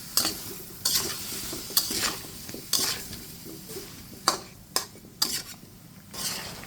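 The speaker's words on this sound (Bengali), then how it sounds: "লবণটা দিয়ে একটু নেড়ে ছেড়ে দিচ্ছি" A spoon stirs a pumpkin and shrimp curry after salt goes into the pan, giving sharp scraping strokes against the metal in an irregular rhythm over a faint sizzle, close and clear, with no one talking.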